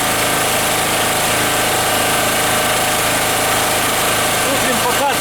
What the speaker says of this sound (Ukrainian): Включаємо сам генератор.